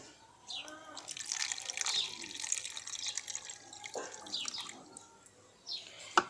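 Salt water at roughly ten percent salinity poured into a small container holding zinc and copper plates, a light liquid splash and trickle running a few seconds, with brief drips near the end.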